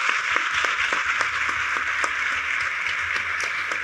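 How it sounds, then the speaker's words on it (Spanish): Audience applause at a festival talk: dense, steady clapping from a large crowd, sustained and fairly loud, with no one talking over it. "Me viene bien que aplaudan cada tanto"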